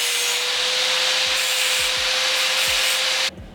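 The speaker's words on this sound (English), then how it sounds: "I'm going to trim these paint edges a bit closer." Steady, close abrasive rubbing and grinding while trimming paint edges on a Golf GTI MK3 body panel during restoration, running continuously, then cutting off near the end.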